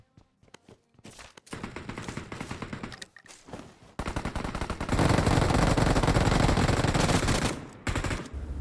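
Rapid automatic gunfire from a battle royale shooter, loud and close, in short bursts that build into a sustained dense volley with brief gaps, alone without talk.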